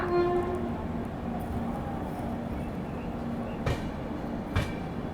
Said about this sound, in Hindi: तो दोस्तों अपनी ट्रेन का डिपार्चर हो चुका है अब ओल्ड दिल्ली रेलवे स्टेशन से।